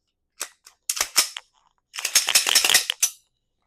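Metal parts of a competition pistol clicking and sliding as the slide assembly is pushed back on after cleaning: a few sharp clicks, then a denser burst of metallic clatter and scraping, close and fairly loud with no talking.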